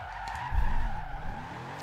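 Bugatti Veyron Super Sport drift car in Forza Horizon 2 sliding with a loud, close tire squeal over a steady engine drone, about two seconds, no talking.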